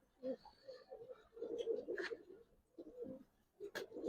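Several Giribaz pigeons coo in short, throaty bursts, close and fairly quiet, with gaps between the phrases and a couple of sharp clicks.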